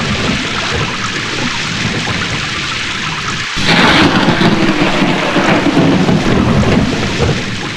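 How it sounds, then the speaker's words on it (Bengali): Cartoon-style thunder and steady rain, a continuous rainy hiss with a sudden loud thunder crack midway that swells into a rolling rumble over the downpour, no voices. "বিদ্যুৎ ঝলকানির পরই কেন বজ্রপাত হয়"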